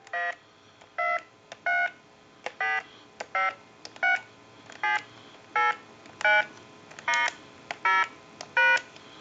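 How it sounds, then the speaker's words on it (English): Touch-tone dialing from a Porsche 928 car telephone under repair, a run of about thirteen short, clean DTMF beeps at an even, quick pace, each separated by brief pauses against a faint background hiss. "We want to dial our numbers out."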